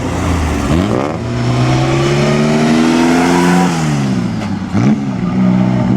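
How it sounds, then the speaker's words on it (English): A 1940 BMW race car, the Mille Miglia winner, roars loud and close, its engine revving up and down through rising and falling pitch sweeps with a brief lift near the end before climbing again. "Now remember the 1940 BMW we saw warming up? Well, here it is."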